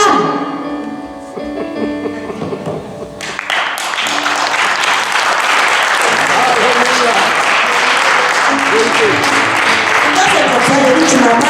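A church congregation at a praise service bursts into loud, sustained applause after a brief voice, the clapping dense and steady to the end.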